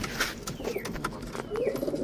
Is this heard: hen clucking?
no